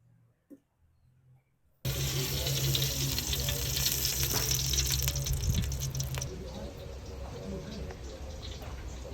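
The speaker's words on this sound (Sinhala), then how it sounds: "මෙන්න මේ වගේ රන්වන් පැහැෙනකම් බෙද ගන්න ඕන" Meat frying in a pan until golden, a steady loud sizzle that starts abruptly after a quiet moment and continues, easing slightly toward the end.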